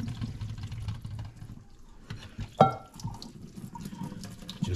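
Cooking water draining off boiled noodles from a pot into a kitchen sink, a steady close rushing splash with a brief clatter of the pot partway through.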